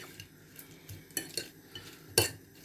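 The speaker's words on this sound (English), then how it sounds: "So give it a good stir with whatever you find" Marinating prawns and chicken stirred with a metal utensil, a few soft clinks and scrapes against the bowl, faint and close, with a sharper knock near the end.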